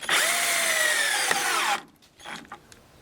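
A cordless drill with a faulty chuck that loosens and comes off in reverse whines loudly at steady speed for nearly two seconds, then stops, followed by faint clicks and handling noises.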